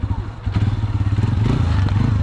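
A motorcycle engine runs loud and close, chugging with a steady rapid pulse and some clattering and thumping throughout.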